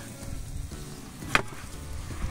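An onion is chopped with a knife for restaurant biryani: a single sharp, close chop lands midway through a steady low kitchen hum, with no talking.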